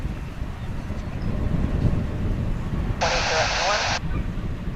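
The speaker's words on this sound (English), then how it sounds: "That was American Flight 71 coming in from Frankfurt. A 777, of course." An American Airlines Boeing 777 arriving from Frankfurt at Dallas Fort Worth airport, a steady moderate jet roar and rumble heard at a distance, with a short burst of bright noise partway through.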